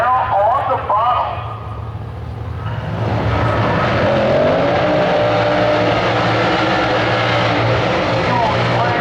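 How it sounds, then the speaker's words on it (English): A bright orange 1968 Chevrolet Camaro running on nitrous roars down a drag strip. The engine swells loud from about three seconds in and holds a sustained, heavy drone while an announcer talks over it. "68 Chevrolet bright orange Camaro on the bottle."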